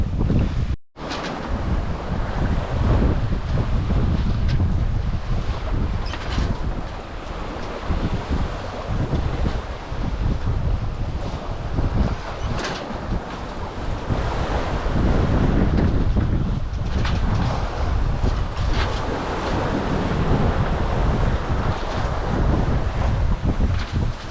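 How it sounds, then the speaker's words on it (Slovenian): Steady wind and rolling ocean waves surround a sailboat on passage toward the Maldives, a continuous loud broadband rush with wind buffeting the microphone, swelling and easing in long surges with no talk. "Tudi valovi so"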